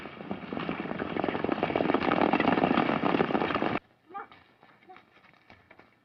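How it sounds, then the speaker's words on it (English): Rapid hoofbeats of horses at a gallop fill the first few seconds, dense and loud, then cut off to quieter scattered sounds. "I'll take one of the horses and ride on ahead"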